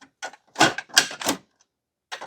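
Konica Minolta Bizhub C750i toner bottles clicking into place: a handful of sharp, close plastic clicks and snaps in quick bursts, with short silent gaps between them.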